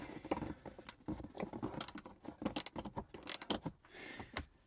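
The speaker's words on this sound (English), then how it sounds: "So this is where a nice little spanner like this can really work well for you." A small spanner working 13mm bolts inside a Maserati GranTurismo interior, with quiet, irregular metallic clicks and ticks in quick bursts up close, fairly faint overall.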